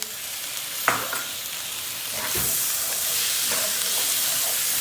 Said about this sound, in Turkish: Domatesle beraber şöyle bir karıştıracağız